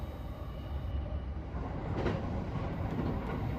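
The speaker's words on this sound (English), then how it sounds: "It is a tiny train that runs through the countryside, stopping in small towns, and eventually Ubara." A small local train on the Sotobo line in rural Japan rumbles along, a soft, steady low roll of wheels and carriage noise at modest volume with no talk.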